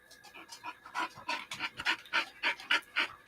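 A dog pants rapidly and steadily at a car audio show, about a dozen quick breathy huffs close to the listener with no talk over them.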